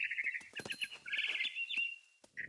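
A mama bird in the video game What Remains of Edith Finch chirps in a rapid series of bright, close tweets and trills, with short pauses between the bursts.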